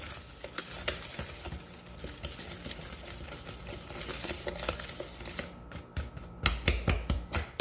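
DIY gift ingredients being stirred in a bowl, with a continuous scraping, crinkling rustle. Quick clicking strokes grow louder toward the end.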